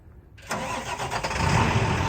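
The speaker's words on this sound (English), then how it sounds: "an International Max Force DT Series 466 turbo diesel that starts right up and sounds great" An International MaxForce DT 466 turbo diesel in a 2009 International Durastar 4300 truck cranks and fires up after a brief quiet start, then settles into a loud, steady, rough diesel idle that holds close and even.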